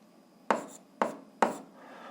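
A pen on paper works through an algebra exercise on polynomials, giving three sharp scratching strokes about half a second apart, each fading quickly, close up against a quiet background.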